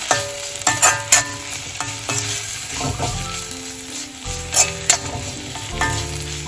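Raw plantain with salt stirred in a frying pan, a close, continuous sizzle with repeated scraping and knocking of a utensil against the pan.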